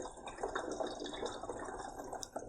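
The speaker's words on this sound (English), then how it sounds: "I think she puts the water back into the other two parts." Water is poured back and forth in a Pythagoras theorem demonstration model, giving a faint, trickling, sloshing sound with small drips, quiet and close.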